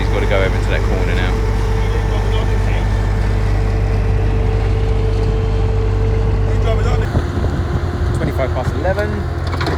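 A roller compacting ground at a beach house build site in Barbados, its steady low engine drone and vibration running continuously, with people talking over it and the tone shifting near the end.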